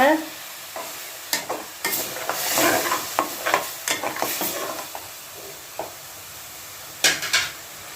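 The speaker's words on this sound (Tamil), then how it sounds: "இப்போ இதில் பால் அரை டம்ளர் சேருங்க நல்லா கலந்து விடுங்க" A spoon stirs milk into a coconut laddoo mixture in a pan, giving repeated close scraping and clinking strokes over a soft sizzle, irregular and fairly loud, with no talking.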